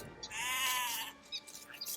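Sheep in the video game Age of Empires 2 bleat once in a loud, wavering cry, followed by a few fainter short game sounds.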